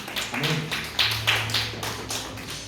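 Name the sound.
children clapping in church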